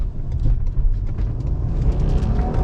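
A 2017 Ford Explorer Police Interceptor with a PIT bumper drives along, its engine and road noise forming a steady low rumble throughout, close and continuous with no voices.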